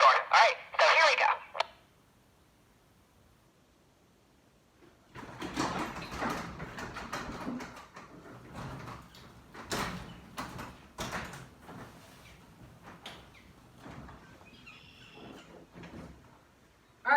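Garage doors lifted by hand: rolling, rattling panel and track noise in long bursts after an opening clatter, with someone talking over parts of it.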